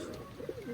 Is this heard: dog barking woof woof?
no